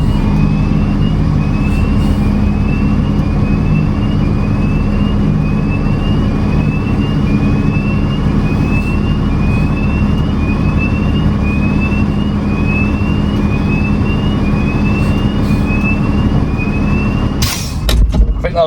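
A Mercedes Econic truck with a fuel problem drives with its engine running, producing a loud, close, steady rumble for the whole stretch, with a brief knock near the end.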